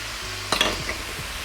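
Pork mince stirred in a hot pan with brown sugar, oyster sauce, fish sauce and dark soy sauce, a steady sizzle under a few close scraping strokes of a utensil, no talk.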